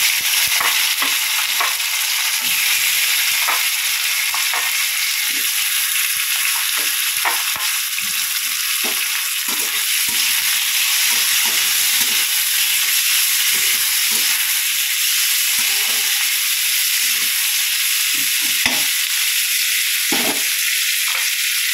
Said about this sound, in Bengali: এর মধ্যেই মশলাটাকে ভেজে নেবো।